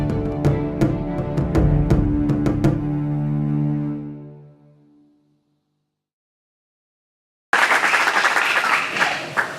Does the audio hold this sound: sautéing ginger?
no